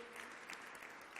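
Faint, steady applause from a crowd at a launch evening, soft and distant, continuing throughout.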